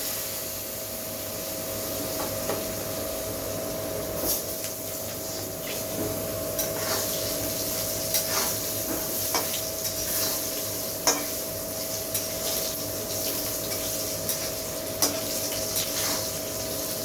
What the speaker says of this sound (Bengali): এর মধ্যে আমি আলুটা ভেজে নেব।